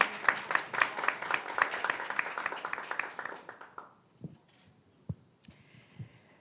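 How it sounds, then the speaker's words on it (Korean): An audience at a Korean digital project launch ceremony gives a burst of quick, crisp applause that fades out after about three and a half seconds, followed by a few isolated claps and quiet room noise. "여러분 큰 박수 보내주시기 바랍니다."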